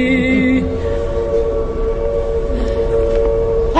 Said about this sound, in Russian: Опять этот поезд, жалобный звук!